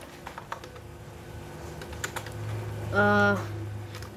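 Typing on a computer keyboard during an English typing lesson: quick, close clicks at a slow, uneven pace, with a brief tonal sound near the end.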